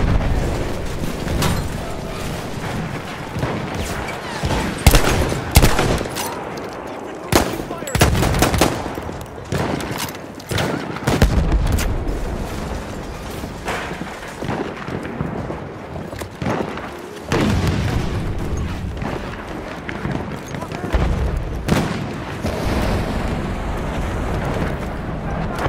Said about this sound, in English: Grenade out, my grenade!